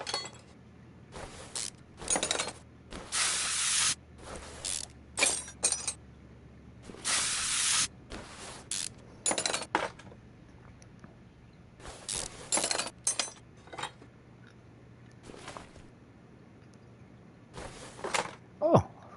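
Bursts of a ratchet spinning off stuck engine bolts in Car Mechanic Simulator 2021, a series of short and longer bright whirring runs separated by pauses, close and fairly loud.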